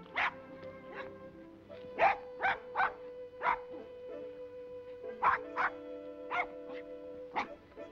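A dog in a film scene barks in sharp, fairly loud bursts, about a dozen in two clusters, over a steady musical background.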